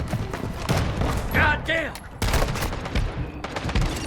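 Video game gunfire from a John Wick-inspired weapon loadout rings out as bursts of sharp shots and rapid volleys, up close and loud, with excited talk running throughout.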